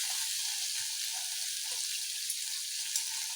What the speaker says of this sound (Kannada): ಇದಿಷ್ಟನ್ನು ಹಾಕ್ಕೊಂಡು ಚೆನ್ನಾಗಿ ಸ್ವಲ್ಪ ಫ್ರೈ ಮಾಡ್ಕೋಬೇಕು